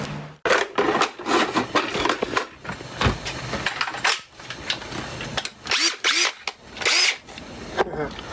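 A power drill on a sailing boat whines in several short, loud bursts with brief pauses between them, sometimes biting into the material with grinding rasps.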